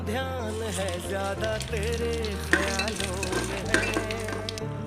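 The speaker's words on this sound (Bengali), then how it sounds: "এবার দিয়ে দেবো সাদা জিরে, তেজপাতা এবং শুকনো লঙ্কা ফোড়ন।" Hot oil and ghee sizzle loudly as cumin seeds, bay leaves and dried red chillies crackle in it, a dense continuous frying hiss with a few sharper pops.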